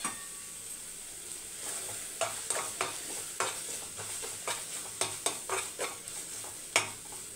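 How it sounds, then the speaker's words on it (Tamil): A spoon stirs meal maker with tomato pickle and chili powder frying in a pan, giving a steady soft sizzle under repeated close scrapes and taps of the utensil against the pan, with no voices. "நல்லா மிக்ஸ் பண்ணி விட்டுக்கோங்க."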